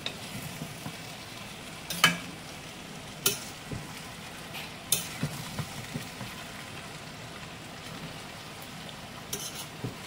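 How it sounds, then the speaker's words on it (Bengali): Parwal (pointed gourd) pilaf fries quietly in a pan under a soft, steady sizzle, with a few sharp scrapes and clicks as a utensil stirs the rice. "এবার এটাকে একটু নেড়ে দেবো ভেজে।"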